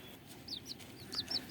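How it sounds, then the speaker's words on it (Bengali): Fifteen-day-old chicks peep in several quick high chirps over a low background murmur, with the calls coming in short bursts toward the end. "এই হচ্ছে 15 দিনের ছোট ছোট মুরগির বাচ্চা"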